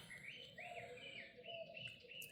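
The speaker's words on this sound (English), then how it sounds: "the sun's starting to come up and all the birds are getting up." Birds chirp and tweet at sunrise, several overlapping calls at a moderate distance with a faint hum of background ambience.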